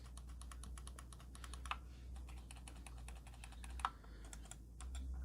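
Forward and back side buttons of a Logitech G305 wireless gaming mouse clicked in quick succession, giving many small, dry ticks close up. A couple of the clicks stand out louder, all over a steady low hum and without speech.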